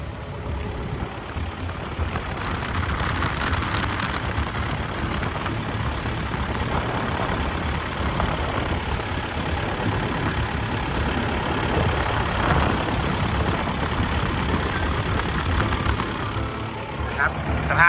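A Hitachi ZX135US-3 12-ton excavator diesel engine idles throughout, a constant low rumble with a faint knocking texture, fairly close and unchanging.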